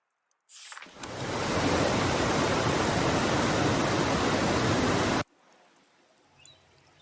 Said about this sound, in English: These waterfalls were in the backyard of an old artist I met.